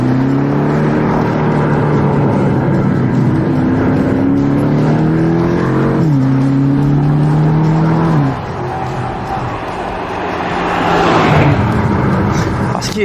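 A BMW M8 Competition Gran Coupé sports car engine and exhaust roar loudly and close, with revs rising and shifting in steps, then easing off before swelling again.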